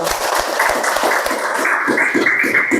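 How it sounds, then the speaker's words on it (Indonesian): An audience in a university teacher-training class claps in a short burst of scattered, uneven claps, with voices chattering over it throughout. "Tepuk tangan dulu"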